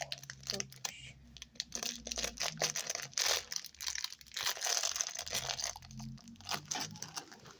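Crinkling and tearing of paper packaging, close and intermittent, with a voice speaking quietly over it.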